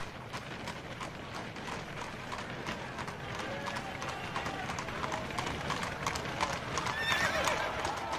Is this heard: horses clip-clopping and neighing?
yes